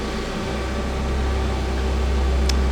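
A new 2011 Feeler HT-30Y CNC turning center traversing its Z-axis, the way cover and ball screw moving: a steady, close mechanical drone with low hum and faint whine, continuous and even throughout, with a brief tick near the end.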